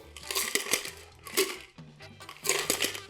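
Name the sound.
straining a cocktail over ice into a glass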